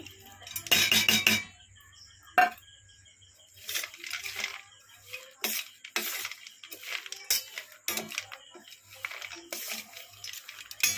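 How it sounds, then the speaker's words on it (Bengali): Fried potatoes and peanuts being mixed together on a plate, giving irregular clinks, scrapes and crunchy rustling bursts, close and moderately loud, with quieter gaps between them. "আমি সমস্ত কিছু এবার উপকরণ মিশিয়ে নিচ্ছি"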